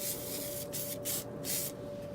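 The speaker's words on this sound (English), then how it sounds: "I'm going to hit them with a little WD-40 while they wait" WD-40 sprayed onto small motor parts, three short hissing bursts in quick succession, close by, over a faint steady hum.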